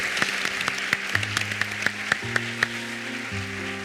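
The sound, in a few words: ovation to thank and farewell the speakers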